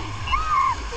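A splash of water as someone dives in, a short wet burst heard close and under loud shouting voices.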